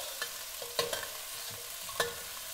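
Garlic fries over low-medium heat in a pan while a utensil stirs it, giving a steady soft sizzle broken by a few sharp scraping clicks.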